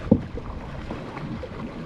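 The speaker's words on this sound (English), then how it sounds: "Keep paddling." A canoe glides across a mountain lake in Utah, a single soft paddle stroke and thump near the start, then water lapping against the hull under light wind noise.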